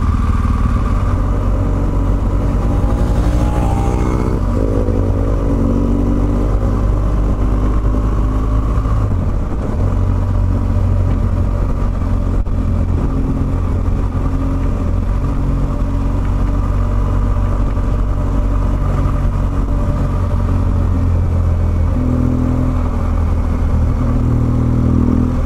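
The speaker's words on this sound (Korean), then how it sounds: "바이크 소리가 여기저기서 막 들리네." Motorcycles riding through city traffic on a weekend, a steady loud engine drone with shifting pitch as bikes accelerate and pass, continuous throughout with no talking.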